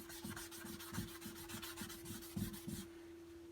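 Folded sandpaper rubbed by hand over carved wood with chainsaw marks, steady rhythmic back-and-forth rasping strokes, close and fairly quiet over a constant low hum.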